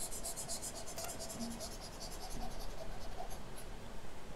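A pen scratches across paper while a number line is drawn for a maths exercise, a steady close scribbling with short strokes and faint room noise, no speech.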